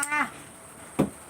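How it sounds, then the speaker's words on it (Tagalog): A cat gives two short meows, the second louder and closer, with quiet background between them. "pusa ko, gutom na daw siya"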